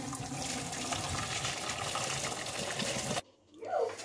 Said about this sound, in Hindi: चावल हमारे तैयार हो गए हैं, अभी हम इनको छन्नी में डाल लेंगे।